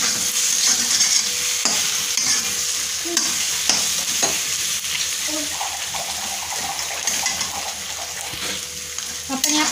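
Eggs frying for anda bhurji in a hot pan, a loud steady sizzle with continuous stirring and scraping close by, the hiss running throughout without pause.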